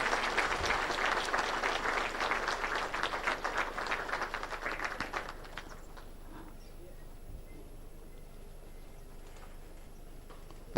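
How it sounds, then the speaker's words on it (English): A crowd at the launch of an institution's vision and strategy gives a round of applause, with dense clapping for about five seconds that then stops abruptly, leaving a quiet room. "A round of applause. Let's appreciate."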